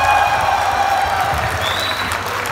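Loud, sustained applause from an auditorium audience of army soldiers at a comedy show in Birla Auditorium: dense, continuous clapping that fills the whole stretch at a steady level, with faint crowd noise underneath.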